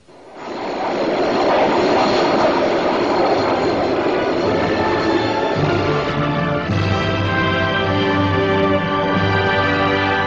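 Military aircraft engine roaring loud and steady as a warplane flies low, the drone holding strong throughout with a shift in pitch partway.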